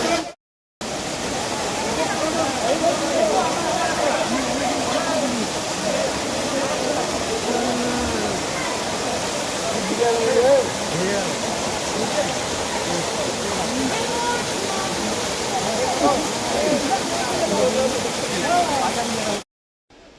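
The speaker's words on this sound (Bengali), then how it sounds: "রক গার্ডেনে ঢুকেই প্রথমেই এই রকমের একটা ঝর্ণা।" A waterfall at Rock Garden in Darjeeling on a rainy day roars in a continuous, loud, even rush of falling water from start to finish, close by.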